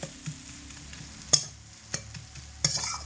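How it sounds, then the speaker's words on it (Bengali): A spatula stirs leafy greens with sugar in a pan over low heat, scraping in a few sharp separate strokes with a soft sizzle underneath and quiet pauses between the strokes. "চিনি দিয়ে হালকা একটু নাড়াচাড়া করে এক মিনিট মতো একদম লো আঁচে রেখে দেব"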